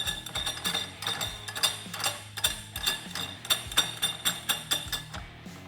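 A nut is threaded down onto a clutch tool for a Polaris RZR 800 heavy-duty primary clutch, making close, rhythmic metallic ratcheting clicks in quick repeated bursts.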